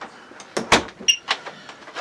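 A door on a pre-owned Coachman Pastiche caravan swung shut, giving a short loud thud with a brief latch click, close by, no voices.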